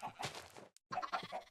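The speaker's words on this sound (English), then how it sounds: "Got some chickens." Chickens clucking in the video game Minecraft, a few short fowl calls close by with a brief gap in the middle, alone with no talking.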